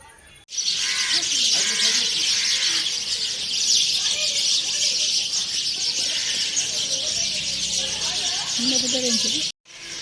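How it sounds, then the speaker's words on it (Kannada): Dense, continuous high-pitched bird chirping fills the scene throughout, with scattered calls over a low background and some voices underneath. "ಕತ್ತಲನಾಗ ಪಕ್ಕಿ ಬೊಲಿ ಹಕ್ಕಿಗಳ ಚಿಲಿಪಿಲಿ"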